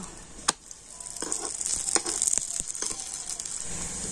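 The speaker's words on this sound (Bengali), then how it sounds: "আর এবার আমি পরোটাটা নিয়ে ফ্রাই প্যানের মধ্যে দিয়ে দেব।" A paratha set into a frying pan with white oil gives a steady, close sizzle with a few sharp clicks and scrapes early on. The frying is heard alone, without talk.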